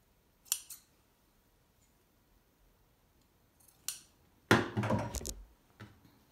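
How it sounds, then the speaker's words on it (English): Scissors snip fabric while trimming a panel for homemade chafing-prevention underwear: a couple of quick close cuts, a pause, then a longer burst of rapid snipping, quiet room otherwise. "Now I'm going to trim this up."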